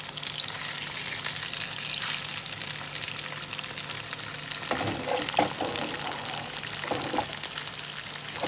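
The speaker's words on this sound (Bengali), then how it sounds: "10 মিনিট পরে আমি মাছটা ভাজবো।" Katla fish frying in a pan gives a steady, moderately loud hiss and sizzle throughout, with a few brief bursts of crackle and spatter near the end; no voices.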